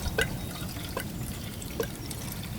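Gasoline pours from a modified California-style gas can into a lawnmower being tuned up, with a trickling liquid flow and a few distinct drips at a close, moderate level, no talking.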